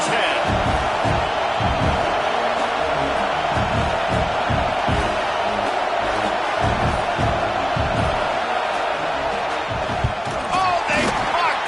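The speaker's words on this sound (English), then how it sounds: "This crowd trying to do its part to get inside the kicker's head." Stadium crowd roars steadily through a rainy football game as a field goal attempt is set up, a dense, loud wall of cheering and shouting with scattered whoops, continuous throughout.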